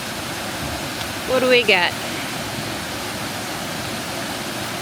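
Bucktail Falls gives a steady, dense rush of falling water that fills the whole stretch at close range, with a brief spoken question over it.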